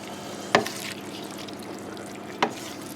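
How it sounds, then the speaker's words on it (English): A spoon stirs chili con carne with kidney beans and bay leaves in a pan: two short scraping clinks about two seconds apart over a soft simmering hiss. "add the kidney beans and some bay leaves if you want to. Give it a little bit of another stir."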